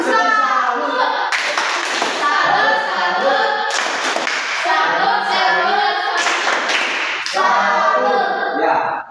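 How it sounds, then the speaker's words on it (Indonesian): Pupils in an Indonesian primary school classroom perform a rhythmic patterned salute clap together, with sharp bursts of group clapping, chanting children's voices and taps recurring loudly across the whole span. "Tepuk salut dulu untuk adik Erni dengan adik Samin."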